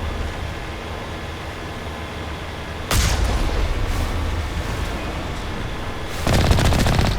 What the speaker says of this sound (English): know if I like the new sound for the cannon or not.